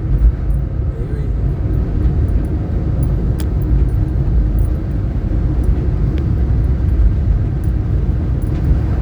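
A car taking a bend in third gear, a steady loud engine drone and road rumble heard from inside the cabin, continuous with no clear shifts.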